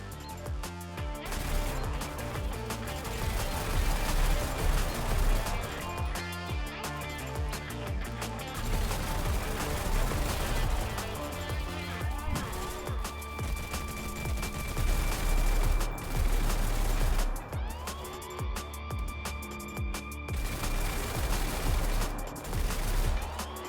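Video-game MG3 light machine gun firing sustained belt-fed bursts, dense and loud throughout with brief pauses, mixed with other battle sounds.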